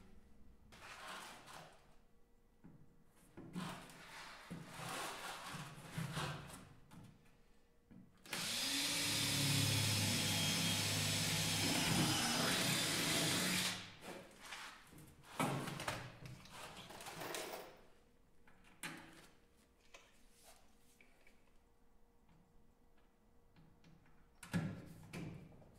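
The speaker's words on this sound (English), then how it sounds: "and I will rivet them in place." Parts being riveted in place on an electric Land Rover, a loud continuous power-tool whir of several seconds amid quieter workshop clatter and handling noises.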